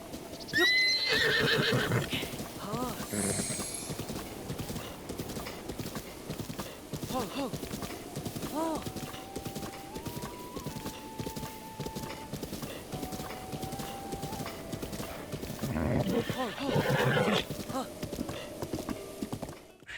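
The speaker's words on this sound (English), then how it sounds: "The horse you try to capture might be too strong for Link" Hooves clop in a fast, steady rhythm throughout in The Legend of Zelda: Breath of the Wild, with a horse neighing shrilly near the start and again toward the end.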